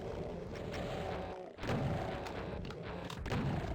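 Rapid gunfire at pink demons in Doom II, a continuous barrage of heavy booming shots with deep thuds, loud and close, briefly dipping before resuming.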